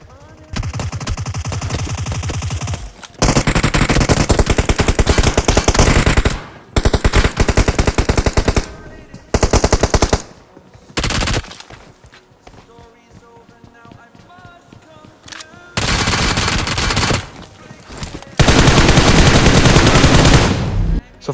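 Repeated bursts of automatic gunfire in the mobile battle royale game BGMI, loud and close, with rapid rattling volleys broken by brief pauses and quieter in-game ambience between them.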